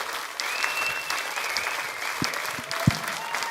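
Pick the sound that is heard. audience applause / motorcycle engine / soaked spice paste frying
audience applause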